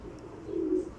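A pure Sialkoti pigeon gives a soft, low cooing call at close range, one brief rolling coo swelling near the middle before fading.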